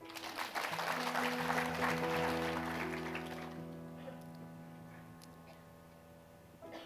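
A church or seminar audience applauds in a brief burst that dies away after about three seconds, leaving sustained organ or keyboard tones ringing softly underneath.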